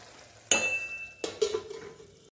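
A spoon scrapes and clinks against a pan while Hyderabadi dalcha with pumpkin is stirred, producing a sharp metallic knock followed by a few softer scrapes.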